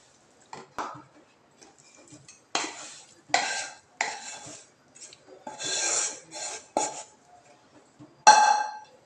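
Sukhadi mixture with edible gum being scraped from the pan onto a plate, a series of close, uneven metal scrapes and rasping pushes separated by short quiet gaps, no voices.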